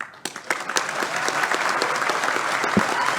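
Applause breaks out at a courthouse swearing-in ceremony for a state appellate judge, a steady wash of many hands clapping close by for about three seconds, with a few sharper individual claps standing out.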